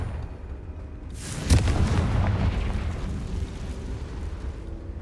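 A Confringo blasting spell detonates in Hogwarts Legacy, a sudden loud boom that rolls into a long, rumbling roar of debris and fire, fading slowly across several seconds with no speech.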